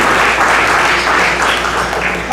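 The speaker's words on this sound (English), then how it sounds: "I think that deserves, some applause." Audience applause at a speech event, dense continuous clapping from a crowd, loud and steady for a couple of seconds before easing slightly.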